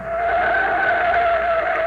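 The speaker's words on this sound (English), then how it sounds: "Hey, what's that car doing? He's coming right out on the field." For a radio drama, a car speeds out onto an airfield with a sustained, loud engine roar and tire skid that holds steady for about two seconds, heard alone.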